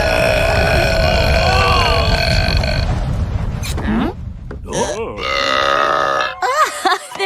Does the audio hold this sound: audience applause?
no